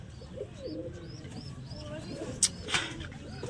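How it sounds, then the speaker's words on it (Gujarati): Free-roaming pigeons coo near a home pigeon setup, several soft rolling calls repeating at moderate distance over low background noise, with a couple of sharp clicks near the end. "આ બધા કબૂતર રખડે છે બહાર"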